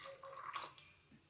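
Water is splashed into bowls of ground wheat milk while making Tirunelveli samba wheat halwa, a short, soft pouring burst with no one talking.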